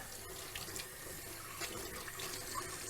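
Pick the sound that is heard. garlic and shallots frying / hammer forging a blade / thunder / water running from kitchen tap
water running from kitchen tap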